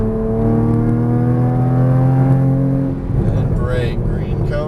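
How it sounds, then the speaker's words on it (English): Porsche Cayman GTS on a race track, engine droning with rising harmonic pitch as it accelerates steadily, loud and close inside the cabin, with an instructor's voice over it. "Start squeezing that throttle for me now."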